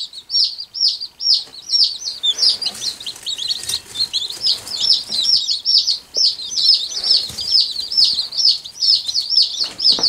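Tiny bantam baby chicks peep continuously, a dense run of high, rapid chirps from several birds close by, steady throughout without any talking.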